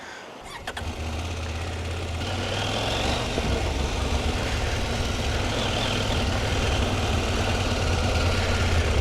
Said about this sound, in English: this 790 KTM, 799 I guess. Boy, it's a sweet little motor.